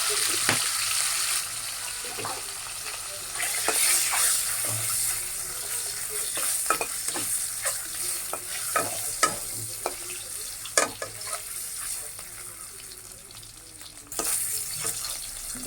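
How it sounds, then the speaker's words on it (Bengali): Potatoes sizzle in hot oil in a steady crackling hiss, with many clicks and scrapes of stirring throughout and a louder burst near the end. "আলুটা আমার ভাজা হয়ে গেছে এখন এটা উঠে ফেলবো"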